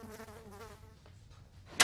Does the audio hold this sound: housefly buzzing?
yes